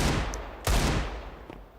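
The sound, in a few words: silenced M4 gunfire in Counter-Strike, video game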